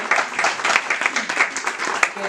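Applause from the audience at a book presentation for the novel 'Helena' at a cultural venue, a short, dense burst of many hands clapping at moderate loudness, with faint voices mixed in.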